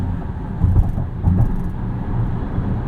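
A 2022 Volvo XC60 T8 Polestar Extended Range plug-in hybrid cruising on the road, giving a steady low rumble of road and tyre noise with a couple of brief swells, no talk over it.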